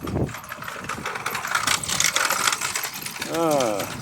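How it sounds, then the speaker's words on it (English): An old scooter buzzes past outdoors near the 17th-century Citadel de Blaye, its engine rising and fading at mid distance amid open-air noise, with a brief voice near the end. "there's one of the ancient scooters"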